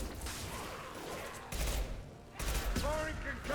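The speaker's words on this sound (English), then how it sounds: "Firing concussive shot." Concussive shots are fired in Mass Effect 2: two heavy, booming blasts land about a second apart over a dense, continuous bed of game noise.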